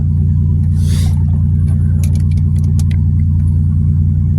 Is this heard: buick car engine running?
yes